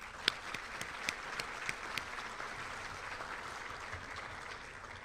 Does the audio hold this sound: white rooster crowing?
no